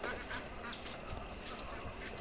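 Ducks let out onto water in the morning, a busy flock chattering and quacking continuously at a steady moderate level, with scattered calls layered over a constant noisy background.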